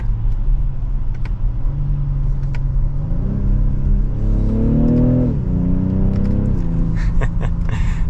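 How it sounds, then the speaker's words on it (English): A 2023 BMW X6 xDrive40i M Sport turbocharged engine rises in pitch as it accelerates after a downshift, with a steady low rumble and a faint turbo whine heard from inside the cabin. "you can hear the turbo just a little bit."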